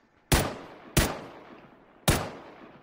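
Three loud, sharp gunshots in the video game PUBG, spaced unevenly and each followed by a short decaying tail, with no talking.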